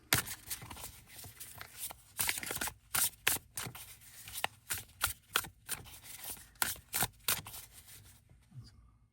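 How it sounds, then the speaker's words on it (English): Tarot cards being shuffled by hand, a slightly smaller deck, giving a series of crisp papery riffles and flicks in irregular bursts, close and fairly quiet, with no voice. "let's give these a shuffle then, shall we?"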